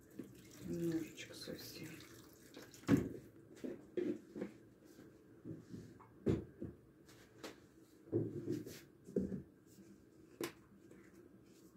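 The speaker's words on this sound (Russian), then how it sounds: "все-таки немного добавим сейчас водички" Hot water is poured into a pan of stewing meat with gravy in a home kitchen, giving short, soft splashing bursts between quiet stretches while someone talks nearby.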